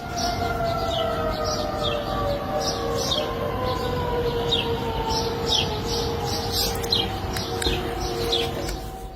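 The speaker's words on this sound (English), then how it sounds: "Sometimes they emit loud noises, often air raid sirens." An air raid siren wails steadily in the distance, its tone slowly falling, while birds chirp and coo nearby throughout.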